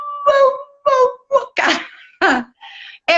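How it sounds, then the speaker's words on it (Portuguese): Many dogs howling and barking together, set off by a distant siren, heard as a run of loud, close, separate yelps and howls with short gaps between them. "É muito cachorro junto, uivando, latindo."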